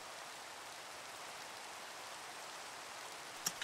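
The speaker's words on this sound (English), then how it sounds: "It's raining. It's a lightning storm. Thunderstorm." Steady rain in a Minecraft thunderstorm, a constant even hiss of falling water with a brief sharp crackle near the end, moderately quiet and with no voices.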